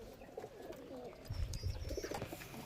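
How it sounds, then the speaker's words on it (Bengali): Giribaz high-flying pigeons cooing inside a loft, soft repeated throaty coos that overlap and swell midway, fairly quiet with no voices. "দেখো পায়রা কতটা ছটফট"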